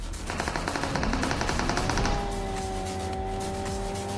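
Rapid automatic gunfire in a mobile shooter game played on an iPad Mini 6, a fast rattling burst over the first two seconds, followed by a steady tonal hum of game sound.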